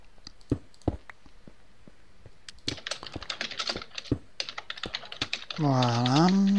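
Fast, irregular clicking of typing on a computer keyboard, close up, with sparse taps at first and then a dense burst, followed by a brief sung or hummed vocal tone at the end.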